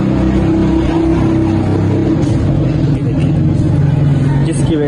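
A Honda BR-V with a worn axle drives along, its steady loud road and drivetrain rumble carrying a rough, uneven grinding tone, with someone talking over it.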